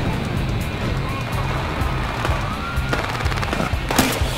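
Rapid gunfire in the video game Battlefield Hardline, bursts of automatic shots crackling over a steady rumble of vehicle engine noise in a busy street firefight.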